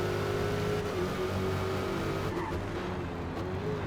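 Dodge Hellcat accelerating in a Forza racing game at Watkins Glen, a steady loud engine drone with a rising pitch under power, continuous throughout and without speech.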